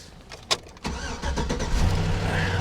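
A truck at a salvage auction lot cranks briefly, fires up, and settles into a steady, close, rumbling idle with no talking.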